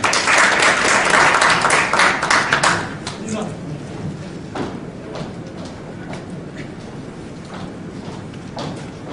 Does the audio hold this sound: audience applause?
yes